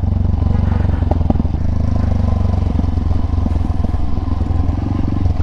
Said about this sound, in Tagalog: Feeling ko ang ingay ng motor ko niyan sa video.